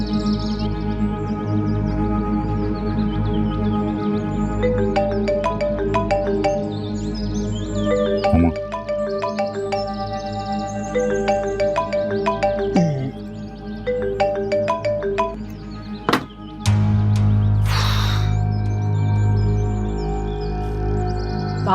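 A melodic electronic ringtone repeats its tune continuously over a steady background, with a brief burst of noise near the end.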